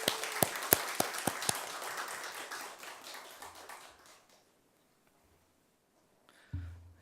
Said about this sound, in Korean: 자, 환영의 박수를 부탁합니다